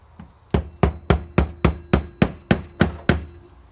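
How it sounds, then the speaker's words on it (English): A hammer strikes a chisel to peen a washer over on a Predator 420 go-kart torque converter: about ten sharp, evenly spaced metallic blows, close and loud, with no talk. "You gotta peen your washer back over."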